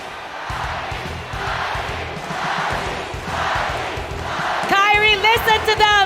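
Esports arena crowd at an MLBB M5 grand final between ONIC and APBR, a steady roaring cheer rising and falling in waves throughout, with an amplified voice speaking over it toward the end.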